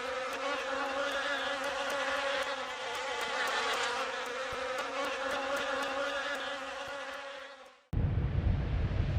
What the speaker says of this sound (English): What's that? Grasshoppers.